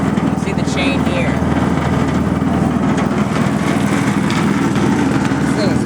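The engine of a Tarco sander runs steadily after a cold start, with a loud, continuous small-engine drone that does not change and is close to the listener.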